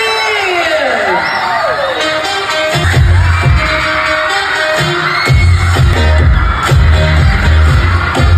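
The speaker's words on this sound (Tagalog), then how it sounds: "Grabe naman talaga yung hiyawan ng mga estudyante, mga kaaliw, pati yung mga parents." Students and parents in a crowd cheering and shouting, a loud sustained roar with whoops and bursts of noise swelling at intervals.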